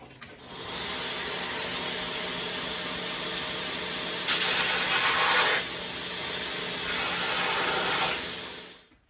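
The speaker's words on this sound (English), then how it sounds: "Luckily, I've got a nice grinder to start working on." A grinder shaping a Kydex holster, steady abrasive whir with no talk, rising to brighter, harsher bursts as the plastic is pressed harder against it partway through.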